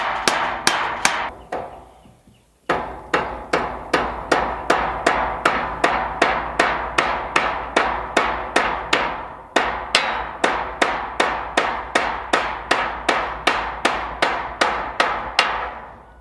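Nails are hammered into wood on a farm: a few quick blows, a short pause, then a long, steady run of sharp, evenly paced strikes, loud and close, with one brief break midway.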